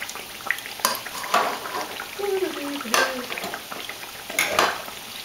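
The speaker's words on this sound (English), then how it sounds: "So I'm mixing my cold beans with the fresh beans that I'm gonna have in here" Cold and fresh beans being stirred together in a pot, a spoon scraping and clinking against the metal with faint sizzling underneath, several distinct knocks spread over the mixing, no speech.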